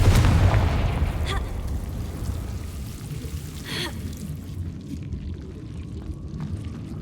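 Confringo fire spell in the Hogwarts Legacy video game: a loud, deep booming blast at the start that fades into a rumbling decay, with a sharper burst a few seconds later and a crackling tail.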